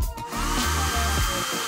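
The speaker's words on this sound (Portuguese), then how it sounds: "Um secador de cabelo?" A hair dryer runs steadily at close range in a kitchen food-challenge setting, a continuous whirring hum with a brief dip near the start.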